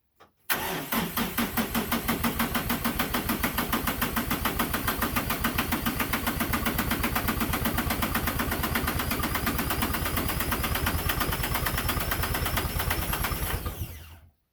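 A cold diesel engine on a snowy winter day, dosed with diesel additive, turns over and runs with a rapid, steady, rhythmic chugging, loud and close, for about thirteen seconds.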